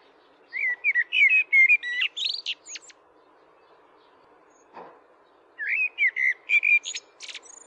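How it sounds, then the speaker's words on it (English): A European blackbird sings in New Zealand bush among big trees and mossy banks, giving two clear phrases of fluting, warbling notes separated by a pause, fairly close and alone over a quiet background. "Big trees and mossy banks, and incongruously, a European blackbird singing."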